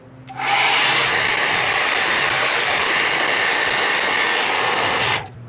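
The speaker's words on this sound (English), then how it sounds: "normally I just keep the hair dryer on" A hair dryer heating a car decal starts abruptly with a steady, loud blowing whoosh, holds evenly for about five seconds, then cuts off, close by.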